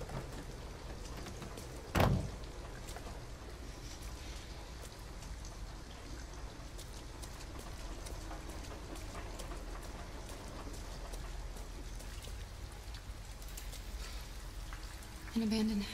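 Steady rain falls throughout a scene in the video game Detroit: Become Human, with a sharp door-like thud early on and brief voices near the end.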